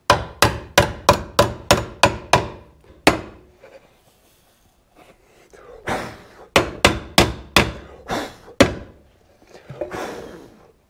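Sharp, ringing hammer blows on metal during a Caterpillar D4 Hyster winch rebuild, without a ball peen hammer, a rapid run of about eight strikes, a pause, then another burst of evenly spaced hits.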